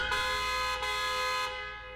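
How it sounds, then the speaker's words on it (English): A speeding car in a visual novel game blares its horn in a loud, sustained honk, briefly broken twice before it fades slightly at the end. "a speeding car honks angrily at me"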